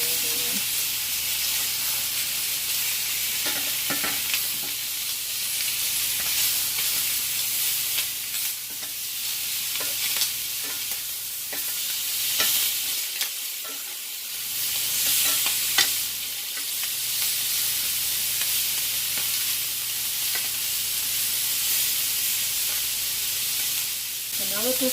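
Pork ribs fry steadily in a pan, a continuous bright sizzle with soft crackles and occasional stirring or shifting of meat, loud and close throughout, with a brief lull partway through.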